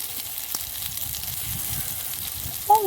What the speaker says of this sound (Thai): น้ำมันผุดบกๆ